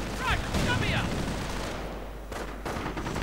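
Video game battle audio has a Pak 38 anti-tank gun firing on an M8 armored car, a cluster of sharp bursts and booms early on with a few later cracks amid battle noise.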